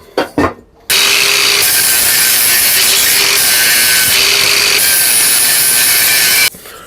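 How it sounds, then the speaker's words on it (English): Angle grinder taking chrome off a Volvo 240 exhaust tip, a loud sustained abrasive whine running for about five and a half seconds with slight changes in pitch as pressure shifts, after a couple of brief handling knocks. "now I'm going to grind off this chrome so I can weld"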